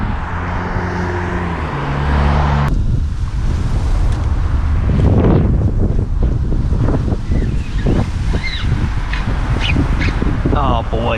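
Strong wind gusts outdoors on the water while fishing, buffeting the microphone with a loud, steady roar throughout and a few faint bird calls and splashes underneath.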